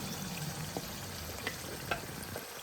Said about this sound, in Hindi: फ्लेम को करेंगे हाई और इसकी खूब 5 से 6 मिनट खूब भुनाई करनी है।